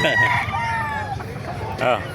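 A rooster crows loudly nearby at a chicken market in Bocaue, Bulacan, its call rising and falling, with another crow starting near the end over a busy background of clucking fowl.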